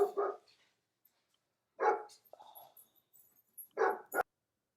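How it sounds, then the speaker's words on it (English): A pet dog barks close by in a home, three short bursts separated by pauses, with a faint whimper between them and no one talking. "my the dog wasn't barking right next to my face"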